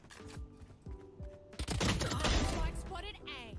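Valorant gunfire rings out in quick bursts, a few sharp single shots followed by a dense fusillade of rapid fire, moderately close, with game sound effects and no talk.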